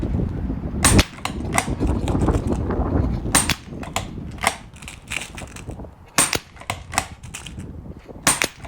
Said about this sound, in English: I'm gonna move over to the Rick Rehm Challenge and do some single shot maybe shooting here